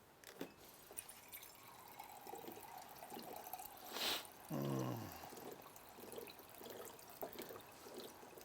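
Water runs briefly from a tap, a short trickling pour that rises into a gurgling fill in a quiet room, with faint clicks and knocks around it.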